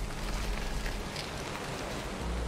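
Steady rain in the survival video game Valheim, a constant dense patter and hiss of raindrops with a low rumble underneath, continuous and evenly loud with no talking.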